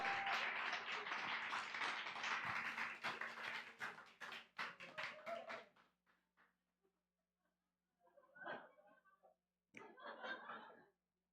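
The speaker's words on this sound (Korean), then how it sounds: "나오실 때 큰 박수 부탁드리겠습니다." A church congregation at a Korean Sunday afternoon service claps in a dense burst for several seconds, then the applause dies away into a few scattered claps and light chuckles.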